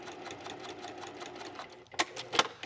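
A sewing machine stitches a second parallel topstitch line beside the first, jeans-style double seam in regular thread, its steady rapid needle chatter running close and continuous, then a couple of sharper clicks and clacks near the end.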